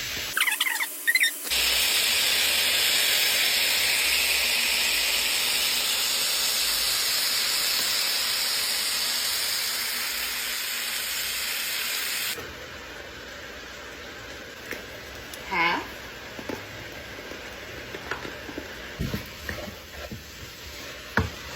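Soy sauce hits a hot pan of beef fried rice with a loud, broad, steady sizzle and hiss that holds for about ten seconds. It then drops to a quieter crackle with scattered stirring clicks and scrapes.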